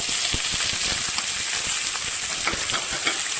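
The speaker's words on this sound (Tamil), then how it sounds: "நல்லா வதக்குங்க வதங்கினதுக்கப்புறம் ஒரே ஒரு தக்காளி அதையும் போட்டு நல்லா வதக்கணும்" Garlic and small onions sautéing in a pan, a loud dense sizzle with a bright steady hiss and quick irregular crackles and spatula scrapes throughout, close up and without speech.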